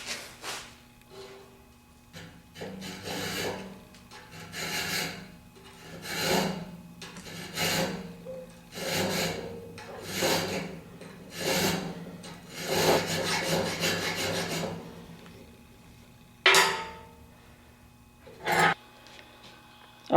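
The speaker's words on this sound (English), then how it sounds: "I've just got a regular 732 chainsaw file here, and I'm just going to take a little bit off that" A chainsaw file rasps steadily in repeated strokes on the metal hook of a gopher trap, close and rhythmic, then pauses before two sharper final scrapes.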